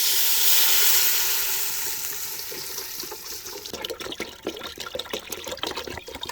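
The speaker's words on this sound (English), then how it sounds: "I put the water." Water is poured into a hot sizzling pan while braising Thai pork leg, a rushing splash that fades into steady crackling and popping sizzle, close and loud.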